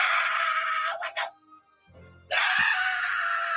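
A man screams loudly in a played recording, two long sustained shrieks broken by a brief low groan-like pause between them.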